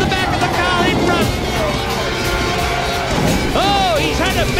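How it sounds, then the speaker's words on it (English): Simulated 1991 Formula One race cars in Assetto Corsa, one running into the back of the car ahead: a loud clattering crash amid whining engines, with a sharp engine squeal near the end and a commentator talking over it. "he's run into the back of the car in front"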